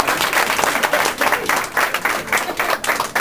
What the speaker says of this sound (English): how about a nice round of applause for Slomo?